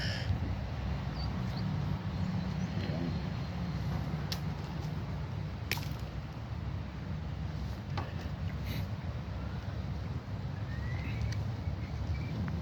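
Birds call intermittently over a steady low outdoor rumble, the harsh caws fairly faint and scattered.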